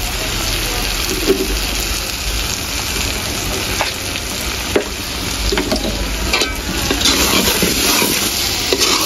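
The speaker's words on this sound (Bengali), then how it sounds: "সরষে দিয়ে বেশি কষাবো না, এভাবে কিছুক্ষণ নাড়িয়ে" Hilsa fish pieces stirred in mustard paste in a pan, a steady frying sizzle with scraping strokes from a spatula, fairly close and continuous throughout.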